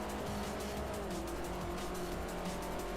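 V12 and turbocharged four-cylinder race cars running flat out down a straight in Forza Motorsport 4, a continuous dense engine roar with a rising pitch, steady and loud throughout.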